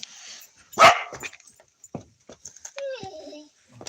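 A dog gives a sharp bark, followed by softer whimpers and yips, with quiet talking in the background.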